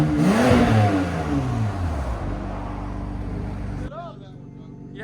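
Twin-turbo 3.0-litre inline-six exhaust of a 2019 BMW M2 Competition with Valvetronic valve open, revving loudly up and falling back in a sustained burst, then a sharp cut to a lower, crackling idle near the end.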